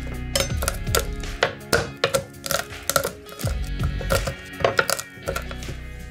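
Garlic cloves crushed on a kitchen board to loosen the skin, heard as a series of sharp, close thumps and knocks in an irregular rhythm with no talk.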